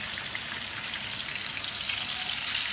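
Salmon fries in a hot pan with a steady, close, hissing sizzle like light rain that grows slightly louder toward the end, with no talking.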